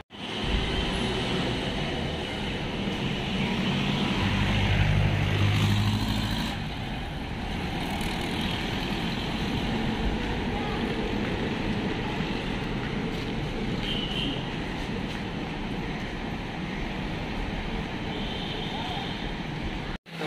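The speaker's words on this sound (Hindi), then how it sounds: "उसमें बहुत ज़्यादा साउंड आता है गाड़ी का" Road traffic roars past continuously in Kolkata, with engines and tyre noise rising and fading as vehicles go by fairly close.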